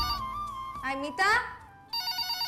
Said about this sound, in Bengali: মিতা ফোনটা ধরো তো।